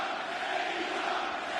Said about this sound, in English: And this crowd loving this,